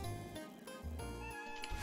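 A cat meows in the Celeste mod map Cat Isle, a short tonal call set over steady game music that fills the whole moment.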